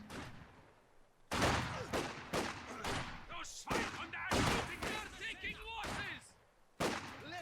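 MG42 machine gun fire in Company of Heroes 2: several loud, sharp bursts of rapid automatic fire separated by brief gaps, mixed with thuds and other battle noise, with a commentator's voice present.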